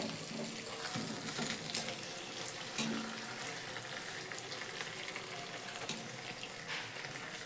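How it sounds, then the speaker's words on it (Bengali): Tiffin puris fry in hot oil with a steady bubbling sizzle and occasional splashes as oil is spooned over them, close but fairly quiet, with no talk. "তেলের উপর যখন এইভাবে ভেসে উঠবে তখনই কিন্তু গরম তেল সাইড থেকে ছিটিয়ে দিতে হবে"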